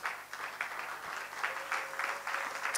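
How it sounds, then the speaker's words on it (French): A church congregation applauds and acclaims during worship, with dense, fairly faint clapping that swells in pulses over a few seconds under a murmur of voices. "Nous acclamons Jésus-Christ"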